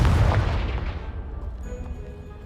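A Confringo fire spell explodes in Hogwarts Legacy with a loud, close boom, its deep rumbling blast trailing off over about two seconds into a quiet tail, with no voices.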